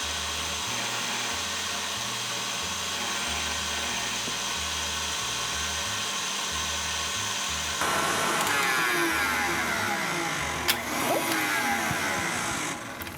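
Electric stand or hand mixer whipping eggs with sugar into a foamy cake batter, a steady loud motor whir with a shift in pitch and texture midway as sugar goes in, running continuously without talk.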